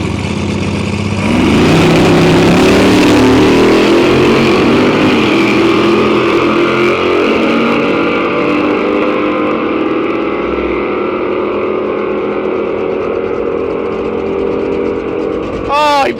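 A drag racing car at Santa Pod launches hard and powers down the strip, a loud sustained engine roar that builds with rising pitch and holds steady before tapering, with people talking over it.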